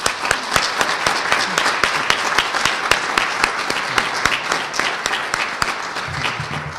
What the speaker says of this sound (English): So I think that's a round of applause